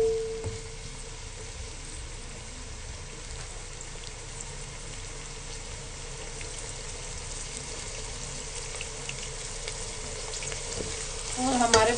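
Mixed vegetable samosa filling fries on high heat with a continuous steady sizzle in the pan, moderately loud and close, with a brief clatter near the end.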